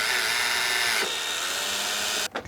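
A power screwdriver whirs as it drives tiny screws into a MIG 180DVT welder's control board, one loud, continuous high-pitched run that shifts pitch partway through and stops abruptly near the end.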